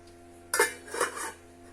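A lid set down on a cooking pot while making banana flower chips gives a sharp metallic clank followed by a brief rattle and scrape, close and fairly loud against a quiet background.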